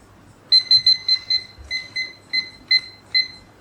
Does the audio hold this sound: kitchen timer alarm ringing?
yes